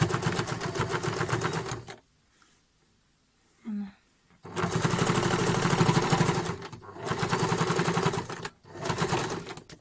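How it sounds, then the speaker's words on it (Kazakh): A home sewing machine stitches together green and white quilt pieces, running in long steady bursts with short pauses between them and a brief quiet stretch where a voice speaks. "Енді көкті тігеміз қазір."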